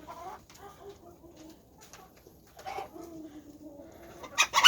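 Chickens in a winter coop during bitter cold, several birds giving short, soft clucks and murmurs close by, with a louder burst of calls at the end.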